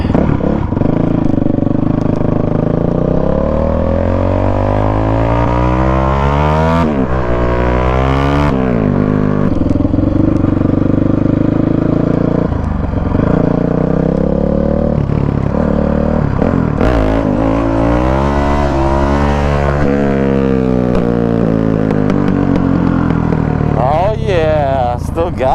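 Honda CRF450X dirt bike engine revving hard during wheelie practice, loud and close throughout, with rising and falling pitch sweeps as the throttle opens and closes.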